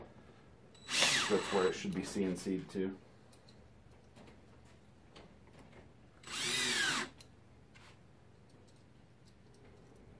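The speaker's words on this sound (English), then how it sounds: "So I'll grab some of these screws and go ahead and secure the bottom here." A power drill drives screws into the bottom of a virtual pinball cabinet: a loud stuttering burst of short drill pulses, then a pause with a spoken line, then one smooth sustained run.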